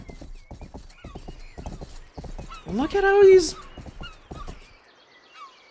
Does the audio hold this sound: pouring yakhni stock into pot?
no